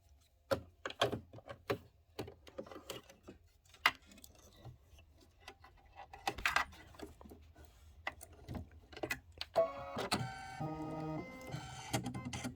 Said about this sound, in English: now it's going to do a pretty little stitch right inside of that satin stitch